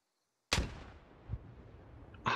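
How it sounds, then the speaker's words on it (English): A frag grenade explodes in a Squad firefight with a sudden loud blast and a long rumbling tail, followed by a duller thud and another sharp crack at the end. No one speaks. "they're throwing frags"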